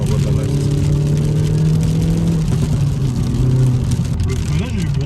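Steady engine drone inside a Hyundai i30N under hard acceleration, loud and continuous with a rising pitch that dips slightly near the end, while someone talks over it.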